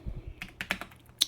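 Quick keystrokes on a Redragon TerraFlare K762 Pro mechanical keyboard make a short run of about eight light, uneven clicks close to the mic, ending on one sharper, louder tap.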